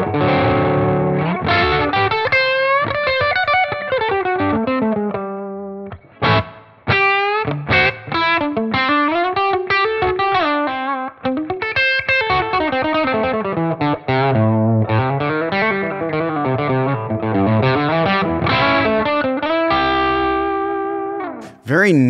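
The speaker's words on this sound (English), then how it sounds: "Very nice, smooth overdrive" An overdriven electric guitar through a Klon-style overdrive on a Tonex plays a long melodic passage, its warm, smooth distortion sustaining notes and bends loudly with no talking.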